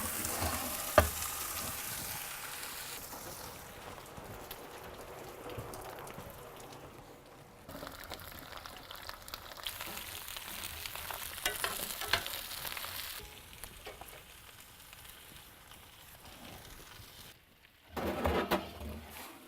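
Turkey bones sizzle and crackle while roasting in a pan inside a wood-fired oven, a soft continuous hiss with scattered pops and stirring scrapes, fading and swelling over the stretch.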